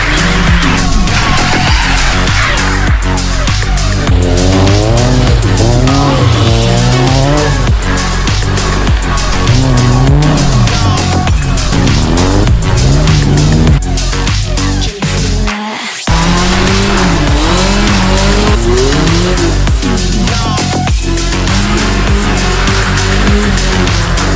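Cars driving fast through a street show event, engines revving continuously with tyres squealing and skidding in repeated wavering bursts, loud and close, with a brief dropout midway and crowd noise underneath.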